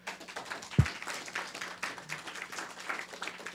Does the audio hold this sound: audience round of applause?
yes